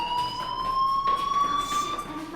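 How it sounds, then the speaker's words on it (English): A fire alarm in the video game Life is Strange: a steady, high electronic ringing tone that holds continuously at moderate level with faint background ambience and no voices. "Hey, do you hear that fire alarm?"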